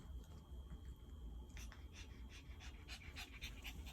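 Choco the dog panting near the microphone, quick rhythmic breaths that grow sharper and more rapid in the second half, with no talk.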